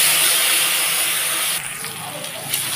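Garlic paste and chili paste hit hot oil with nigella seeds in a frying pan, a loud, close hiss that eases and thins about halfway through, with light stirring scrapes.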